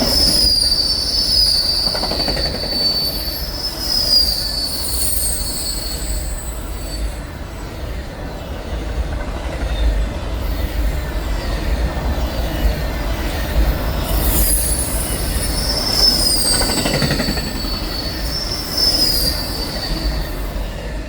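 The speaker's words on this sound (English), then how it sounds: "Whatever, man, it's a train. It's gonna go by fast, so don't blink." An Amtrak Auto Train rolls past in Palatka, Florida, with loud, high-pitched wheel squeals recurring over a steady rumble of rail noise, no voices.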